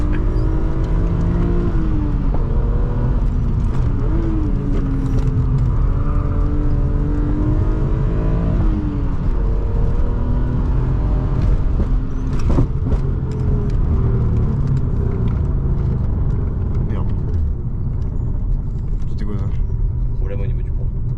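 A BMW M3 E36 engine drones and revs while driving, a loud continuous low rumble with rising and falling tones through gear changes, accompanied by someone talking over it.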